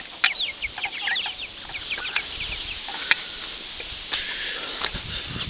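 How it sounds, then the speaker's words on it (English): Backyard chickens clucking in a garden, with a new rooster and bantam among the flock, giving repeated short calls and chirps at close range over steady outdoor background noise. "that's my new rooster I got"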